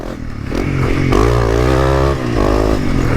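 A 300 motorcycle fitted with a Yoshimura exhaust revs up loudly and close, its engine note rising and holding, dipping briefly, then climbing again.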